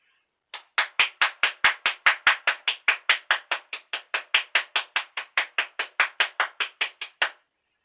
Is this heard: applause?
yes